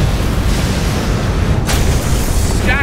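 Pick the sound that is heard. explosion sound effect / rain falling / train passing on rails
explosion sound effect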